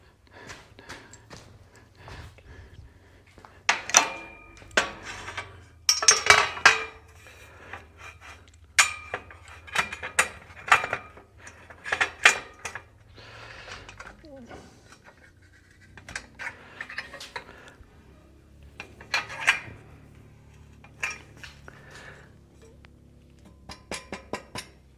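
Metal clamps being handled and set on a steel workpiece in a workshop, scattered sharp clinks and scrapes in irregular bursts, close by with quiet gaps between.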